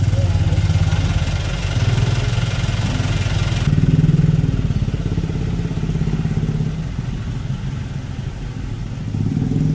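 Motorcycle and vehicle engines idling in a traffic jam in front of a hospital in Tangerang, a steady low chugging rumble close by, with someone talking over it.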